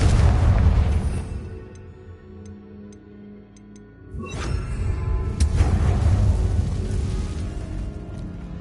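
A Confringo blasting spell explodes in Hogwarts Legacy with a loud boom and a decaying rumble, then a second heavy blast erupts and roars on for several seconds.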